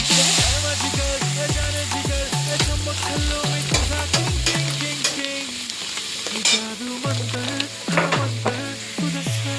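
Vertically sliced onion hits hot oil with popped mustard seeds, cumin and turmeric, giving a steady close sizzle with stirring scrapes under a louder tonal background throughout.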